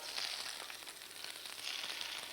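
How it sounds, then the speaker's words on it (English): Beans frying in a frying pan give a steady, dense sizzle with fine crackling pops throughout, close and fairly loud, with no voices. "now you can hear the frying pan popping away"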